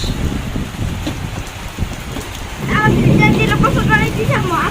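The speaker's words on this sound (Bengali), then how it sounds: "এই যে বৃষ্টি একদম ভিজে গেছে।" Heavy rain with gusty wind in Bangladesh pours as a steady broadband hiss, rising louder midway, with people talking nearby over the downpour.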